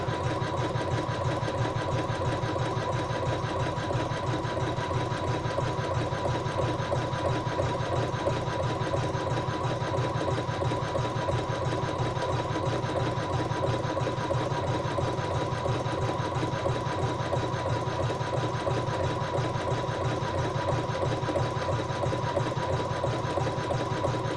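A sewing machine runs steadily for the whole stretch, stitching a stay stitch across a fabric coaster with an even, continuous motor hum and rapid needle rhythm, close and loud with no talk.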